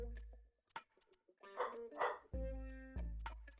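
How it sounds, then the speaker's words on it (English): A pet dog barks several times indoors, the barks loud and close with a whimpering, yippy edge, and a tonal game sound plays alongside. "I'm gonna wait until he stops barking."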